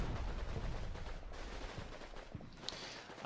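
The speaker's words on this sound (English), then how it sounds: "This guy is getting some fire returned to him." Distant gunfire and shelling rumble across a Combat Mission: Battle for Normandy battlefield during Market Garden, a dense, continuous low roar with scattered sharper reports and no talking.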